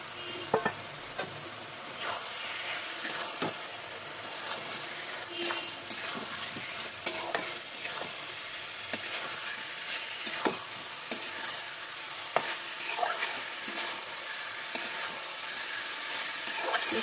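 Fried potatoes and capsicum stirred into spiced oil in a pan, giving a steady close sizzle with repeated scraping and clinking of the spoon throughout, no voices.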